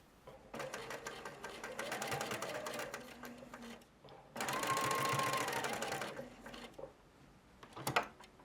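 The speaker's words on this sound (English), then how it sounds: "Here I'm joining the 2 fronts together at the waistline. I'm stitching within the seam allowance." A sewing machine stitching a dress skirt seam at the waistline in denim, running in two steady close-up bursts of a few seconds each with a pause between, then stopping with small handling clicks.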